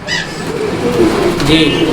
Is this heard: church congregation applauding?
no